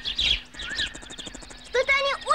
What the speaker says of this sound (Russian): Какая же все-таки красивая птица колибри.